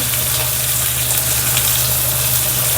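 Green chillies, curry leaves and onion fry in a pan of oil with cumin and asafoetida, giving a loud, steady, close sizzle that runs without a break.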